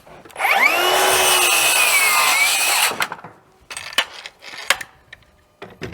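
Circular saw with a loose base plate plunge-cutting down into a wooden rafter: a loud, sustained whining cut of about two and a half seconds with the blade pitch sagging under load, then wind-down, followed by scattered knocks and handling sounds.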